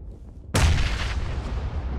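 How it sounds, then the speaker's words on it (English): A grenade goes off in the video game PUBG with a sudden loud boom after a brief quiet moment, followed by a sustained rumbling roar that slowly fades. "I dropped the nade on me, careful."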